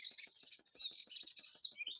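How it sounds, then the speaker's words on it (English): Several birds sing in a quiet outdoor setting, with steady overlapping chirps and warbling phrases repeating rapidly throughout, clear and fairly close, with no talking. "In that silence, you might hear all the birds that sing here."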